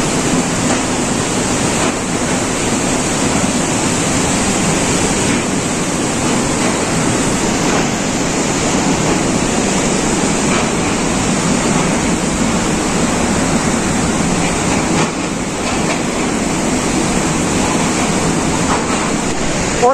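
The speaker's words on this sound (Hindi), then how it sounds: "ये जो पानी आ रहा है ना भाई क्या खूबसूरत लग रहा है" Water flowing over a dam on a mountain cycling route, a loud, steady broadband roar of rushing water that stays constant throughout, close by, with no voices.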